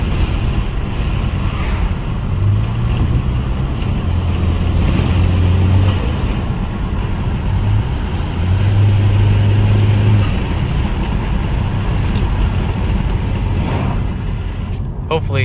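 A 10th-generation Honda Civic with a newly installed grille drives with the windows down, and a loud, steady rush of road and wind noise fills the cabin throughout, rising slightly midway.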